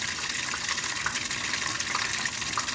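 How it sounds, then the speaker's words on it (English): A Speed Queen washing machine fills with water for its rinse cycle, a steady rushing gush of water that runs continuously and fairly close. "filling up with water for a rinse"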